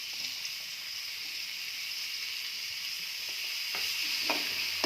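Onions and tomatoes sauté in a pan with a quiet, steady sizzle and a few soft stirring scrapes near the end, with no voices over it.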